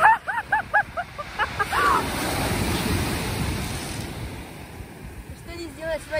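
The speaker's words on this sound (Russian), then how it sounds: "И тут Лику смыло волной" Sea surf washing onto the shore at sunset, a steady broadband rush of breaking waves and wind that swells in the middle, with voices talking at the start and end.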